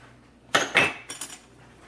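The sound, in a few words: stirring meatball mixture with black pepper and salt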